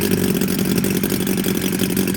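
A small engine runs steadily at a constant idle, a close, loud buzzing putter with no voices.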